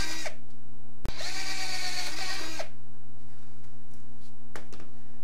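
Power drill boring through wood pieces in a home workshop, one sustained whining burst of about a second and a half, preceded by a sharp click and followed by a few faint knocks.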